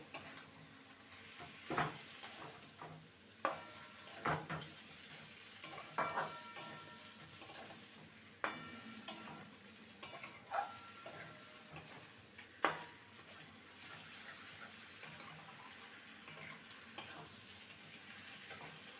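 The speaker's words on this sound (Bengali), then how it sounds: "এবার মাটনগুলো ছেড়ে দেব যেটা হাফ কুক করে নিয়েছি ভালো করে মশলার সাথে" Half-cooked mutton stirred into masala in a pan for dhaniya mutton, a soft sizzle beneath irregular close knocks and scrapes of a spoon against the metal.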